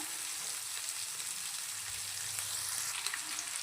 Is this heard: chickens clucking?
no